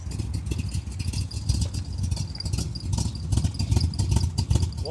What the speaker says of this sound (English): Has a really nice lope to it on the exhaust.